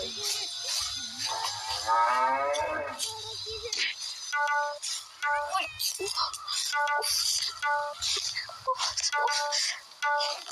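A cow moos in a domestic milking setting, its deep drawn-out lowing sounding several times under and between voices, with faint clinks and rattles nearby.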